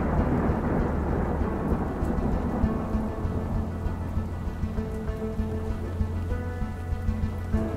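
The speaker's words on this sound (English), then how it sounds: "One day, a thunderstorm is rising." Heavy rain pours steadily while deep thunder rumbles low and continuous throughout, a loud, enveloping storm with no voices.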